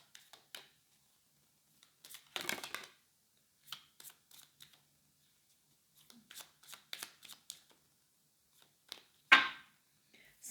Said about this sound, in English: let's pick some cards from the Lenormand deck